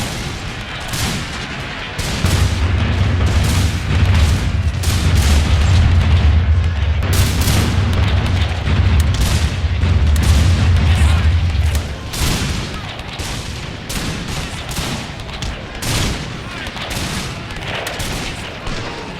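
Musket volleys and booming artillery in a Napoleon: Total War battle, Zulu mod, Holy Land campaign: dense crackling gunfire with heavy low rumbling cannon through the middle stretch, easing to scattered shots; faint talk now and then.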